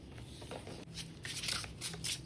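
Tarot cards being shuffled by hand during a reading, a soft continuous riffling and sliding that builds slightly louder toward the end, heard alone without talk.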